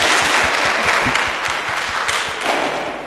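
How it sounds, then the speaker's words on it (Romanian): Applause from a church congregation at a pilgrimage preparation gathering in Roman, a steady patter of many hands clapping close by for about three seconds, with no talking over it. "bravo, bravo, hai să o aplaudăm"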